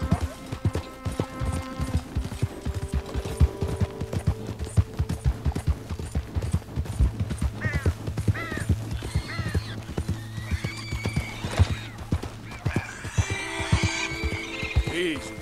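A horse is ridden at a steady pace in Red Dead Redemption 2, with hooves clip-clopping in a continuous close rhythm, occasional whinnies and snorts, and a voice talking over it at times.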